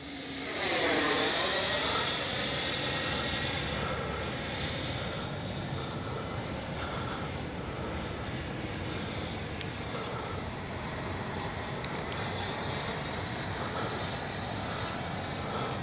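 A Freewing 80mm JL-8 RC jet flies past with a loud rising whine and rushing hiss near the start, then settles into a steady, more distant ducted-fan drone that holds to the end.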